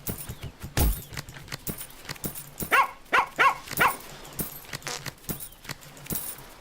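Dogs in the farming video game Plantera bark in a quick cluster of sharp yaps, fairly faint, set among scattered small clicks and game noises.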